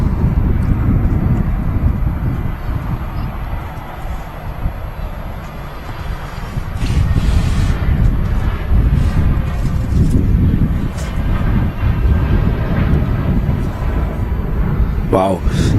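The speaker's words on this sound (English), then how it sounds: "Oh, look, a TAP Neo coming in." TAP Airbus Neo airliner coming in to land at Manchester Airport, a loud rumbling engine roar with gusting wind buffeting, swelling after the midpoint.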